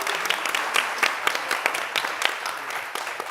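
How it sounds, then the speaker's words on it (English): A crowd applauds, many hands clapping in a dense, steady patter that continues throughout. "join me for giving a big round of applause to our panelists again"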